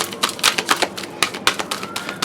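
Oracle cards shuffled by hand, giving a rapid run of crisp papery riffles and slaps in an uneven rhythm, close and fairly loud, with no voice over them.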